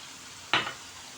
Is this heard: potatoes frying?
yes